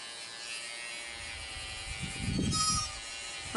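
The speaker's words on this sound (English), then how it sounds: "So now she's gonna shave. So you wanna get all the way around those little buds." Electric clippers buzzing close up while shaving around a baby goat's horn buds, a faint steady hum that grows louder and rougher for a moment as the blades press against the hair.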